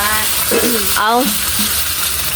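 Eggs frying in a pan at home, a dense, steady sizzle running throughout while voices talk briefly over it.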